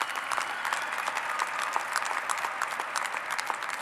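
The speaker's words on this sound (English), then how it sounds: "You can clap for that, it's fine." Graduation audience at the 2012 Sunrise Mountain High School ceremony applauds in a steady, dense clatter of many hands that holds at a constant level throughout, with no speech over it.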